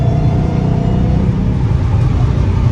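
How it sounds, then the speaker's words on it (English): A Dodge Hellcat Redeye with a valve muffler, driving at night in downtown Los Angeles, gives a steady, loud, low exhaust rumble as it accelerates, with no clear pops or voices. "Dude, I love the exhaust sound. It's so aggressive."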